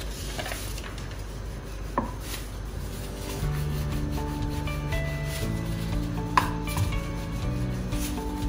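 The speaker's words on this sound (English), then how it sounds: "Now roll the dough with light hands." Chapati dough of high-protein low-carb flour being rolled out with a rolling pin, giving a steady soft rubbing and scraping close by, with a couple of light knocks, while a low hum runs underneath.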